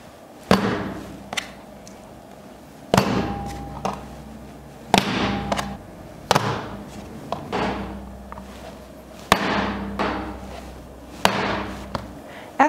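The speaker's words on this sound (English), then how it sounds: "You want to move the clay towards you as you throw it on your work table." Heavy thuds as a slab of clay is thrown down onto a pottery work table, landing again and again at irregular intervals of a second or two, close and fairly loud with a soft, dull impact and nothing else around.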